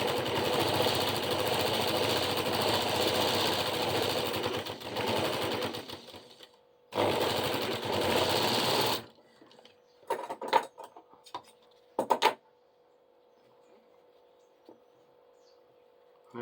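A sewing machine stitches a shirt collar piece with a loud steady whir that breaks off briefly and returns, then stops, leaving short bursts and quiet handling.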